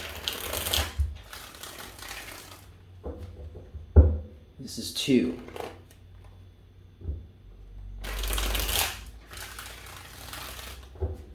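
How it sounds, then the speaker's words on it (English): Several bursts of tarot cards being riffled and shuffled, close up, with a person speaking briefly between the shuffles. "I'm going to give this 3 shuffles."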